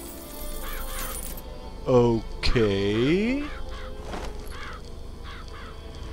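Killer crows caw in BioShock Infinite, two loud harsh calls near the middle over low game ambience, with a brief spoken word and softer repeated cries afterward.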